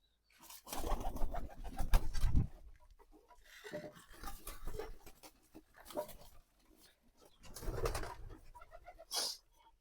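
Pigeons kept in a coop coo and stir close by while being fed wheat grain, in several loud bursts with quieter gaps between.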